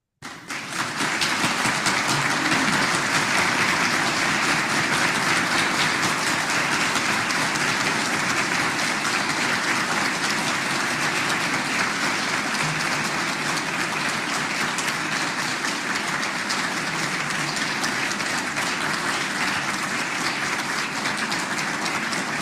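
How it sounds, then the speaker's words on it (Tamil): An audience at a meditation talk applauds in one steady, dense wash of clapping that lasts more than twenty seconds at an even loudness, with no voices over it. "அதுக்காக உங்களை பாராட்டியும் வாழ்த்தியும் ஒரு 30 வினாடிகள் கைதட்டுங்க தயவு செய்து"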